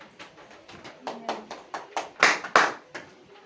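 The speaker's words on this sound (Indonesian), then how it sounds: "Tepuk tangan untuk Rendra." Scattered clapping from students in a classroom after a pupil named Rendra finishes a maths answer, a handful of uneven claps building to a couple of louder bursts, fairly close.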